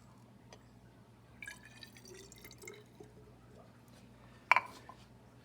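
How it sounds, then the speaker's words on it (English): Water is poured into a cup during a tabletop measurement lab, heard as faint, soft splashing and trickling with a brief sharper splash near the end, in an otherwise quiet room. "So I'm gonna pour the water in."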